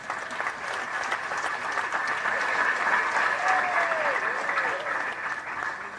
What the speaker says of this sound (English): He deserves a big clap.